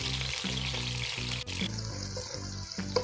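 Masala of tomatoes being fried over low to medium heat for an okra curry, a close steady sizzle broken by the scrape and tap of a spoon, no talk.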